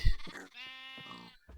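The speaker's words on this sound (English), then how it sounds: "Over here, this is the sheep pen." A Minecraft sheep in a farm pen bleats a single clear, wavering cry, close and fairly quiet, after a brief thump.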